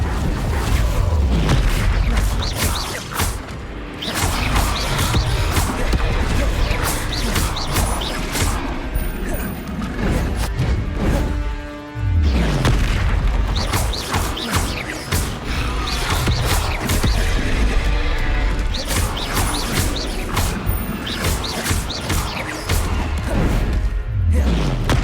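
Repeated Incendio fire spell blasts in Hogwarts Legacy, loud booming bursts and crashing impacts stacked densely over the whole stretch, with short gaps between volleys.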